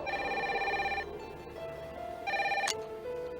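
A phone rings as a cell phone call comes in, two bursts of a trilling electronic ring tone separated by a pause, heard moderately close over a low background hum.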